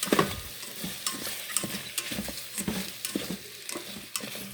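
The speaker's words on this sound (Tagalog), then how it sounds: "Pinaghalo-halo ko na ang bawang, sibuyas, luya, chicken, saka longganisa." Garlic, onion, ginger, chicken and longganisa stirred and sizzling in a pan, a steady frying hiss broken by repeated scraping strokes of a utensil, close and alone without talk.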